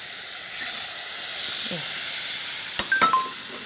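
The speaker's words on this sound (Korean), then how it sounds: "그러면 이때 물을 2컵을 넣어주시는 거예요" Water poured into a hot pan of scorched rice, giving a steady loud hiss of steam and boiling with a few brief clatters near the end.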